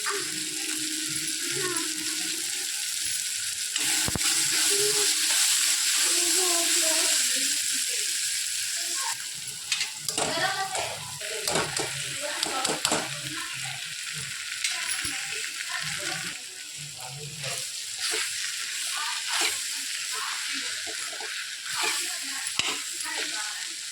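Maggi noodles with Maggi masala, onion and frozen peas fried and stirred in a pan, steady sizzling for several seconds, then scraping stir strokes and clatter that turn patchy, with some water sounds and a voice speaking faintly.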